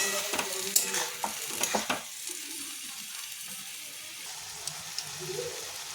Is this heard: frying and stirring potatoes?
yes